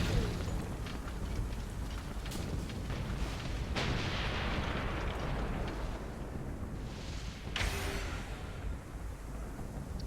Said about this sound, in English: there's this awesome huge cannon. Look at that. It's firing out at airships that are coming in and attacking.